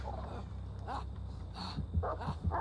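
A dog in the horror video game Dead by Daylight, sent out by the Houndmaster killer, gives a few faint yips and whimpers mixed with game sounds and a voice.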